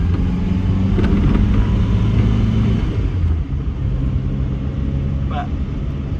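Small 950cc engine of an original Austin A35 running smoothly at a steady drone, heard from inside the car with low rumble throughout and a slight dip in level partway.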